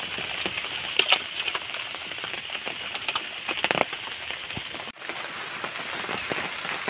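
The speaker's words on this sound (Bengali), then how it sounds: "দেখুন বন্ধুরা, বৃষ্টি হচ্ছে" Monsoon rain falling near a weed-covered village pond, a steady close patter of drops on surfaces with scattered sharper taps.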